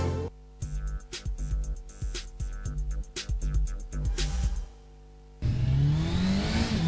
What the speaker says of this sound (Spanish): Cuando acelerás, sale disparando.